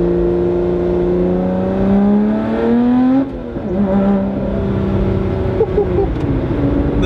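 A supercar engine revs and holds high, its pitch climbing then dropping as gears change, loud and close, under a steady cabin drone.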